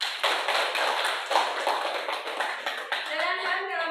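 Students in a classroom applaud, a burst of rapid hand clapping that carries on for a few seconds before a voice speaks over its tail end.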